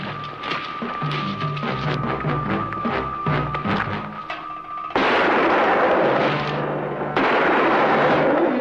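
Gunfire in a western TV episode crackles in rapid, repeated shots over music, followed by louder, denser bursts of firing and rumbling near the end, close and sharp.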